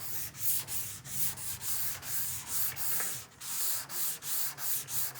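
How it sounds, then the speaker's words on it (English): Guide coat being block sanded on a 1959 Chevy El Camino body: steady rhythmic rubbing strokes, back and forth about twice a second, close and fairly quiet with no talk. "sand that until you get that black spot out of there"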